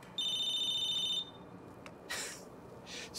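Phone ringing in the video game Battlefield Hardline: a steady electronic ringtone for about a second near the start, followed by faint clicks and brief noise bursts, with no talk.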